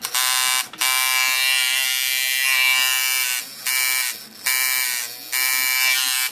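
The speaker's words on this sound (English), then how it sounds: "This is a Chinese Luos tattoo machine, probably one of my favorite machines, if not my favorite coil liner" Chinese Luos coil-type tattoo liner machine buzzing loud and close, a steady harmonic electric drone that cuts off briefly several times and starts right back up, heard alone with no talking.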